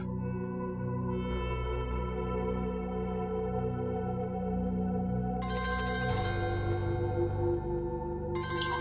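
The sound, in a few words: telephone ringing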